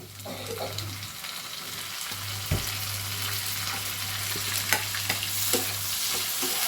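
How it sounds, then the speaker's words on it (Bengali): Onion and tomato frying in a pan while being stirred, a continuous close sizzle with regular scraping knocks of the spoon and a low steady hum underneath, no talk. "দেখো পেঁয়াজটা কিন্তু একটু ভাজা ভাজা হয়ে এসছে। এবার আমরা ওর মধ্যে কি দিয়ে দেবো, টমেটোটা।"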